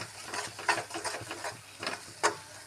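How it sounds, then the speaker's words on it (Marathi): Spices are stirred into a pan of dhaba-style dum aloo, heard as a steady run of close scraping and sizzling strokes that repeat in an uneven rhythm, with no voices. "आता हे सर्व मसाले मी यामध्ये घालत आहे सर्व मसाले व्यवस्थित असे यामध्ये मिक्स करून घ्यायचे आहेत"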